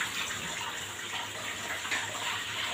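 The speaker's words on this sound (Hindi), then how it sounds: "यहाँ पे क्या है ये टाइगर श्रिंप मेरी बुआ ने धो रही" Tap water runs steadily over tiger shrimp being washed in a home kitchen, a continuous soft splashing gush that stays even and fairly quiet throughout, with no voices.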